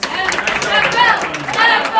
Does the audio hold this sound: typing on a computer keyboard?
no